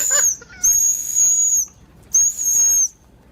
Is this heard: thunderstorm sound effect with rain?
no